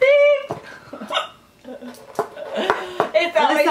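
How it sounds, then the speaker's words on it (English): Repeated hiccups from a person during a mini brands toy unboxing, several sharp, close hiccups spaced irregularly, with people talking between them. "stop having the hiccups"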